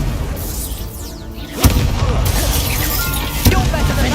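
A Confringo blasting spell cast in Hogwarts Legacy lands as two sharp booming impacts over a dense, busy game soundscape, each burst loud and punchy against constant rumbling background effects.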